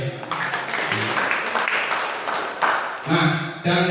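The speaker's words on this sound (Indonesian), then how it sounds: "Sekali tepuk tangan ya." Applause from the crowd at a community gathering of a Klaten residents' association, a dense wash of clapping over about three seconds with background voices mixed in, then tapering as a speaker's voice returns near the end.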